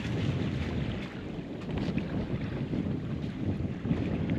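A sailboat under way in easy conditions off an island in French Polynesia, with a constant loud rush of wind across the microphone and water washing against the hull, and no voices.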